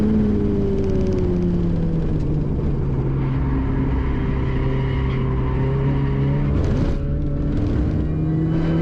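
Budget Mini Cooper race car lapping Oulton Park, its engine droning loud and steady throughout with rising and falling revs through gear changes, close and continuous with no talk.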